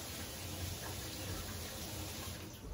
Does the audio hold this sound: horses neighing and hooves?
no